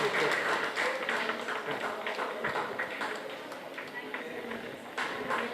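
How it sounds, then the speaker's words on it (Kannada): An audience at a JCI unit inauguration ceremony applauds the honorees with dense, sustained clapping that stays fairly loud throughout and thins a little toward the end. "ತಮ್ಮೆಲ್ಲ ಚಪ್ಪಾಳೆ ಮೂಲಕ ಅಭಿನಂದನೆಗಳು."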